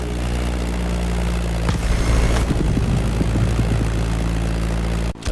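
A Stagger Wing propeller biplane flying in The Crew Motorfest gives a steady engine drone with a throbbing propeller beat, rising briefly into a louder rush. The sound carries on alone with no talk and cuts off abruptly at the end.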